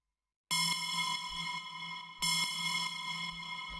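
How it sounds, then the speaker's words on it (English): Two bright FM-synthesized bell tones from a synthesizer in a dark techno production strike one after another, each a sharp metallic attack ringing out with a long shimmering decay. "So I was trying to make like a cool FM bell"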